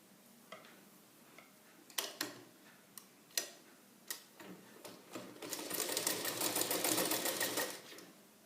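A sewing machine stitches a blouse lining with a double foot, starting with scattered separate clicks and short bursts, then running in a steady louder whir for the last few seconds, with no talking.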